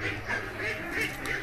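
Several ducks quacking close by in an outdoor pen, a dense overlapping chorus of nasal calls over steady background noise.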